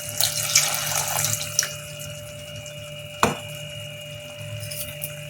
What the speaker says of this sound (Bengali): এবার আমি একটু জল অ্যাড করছি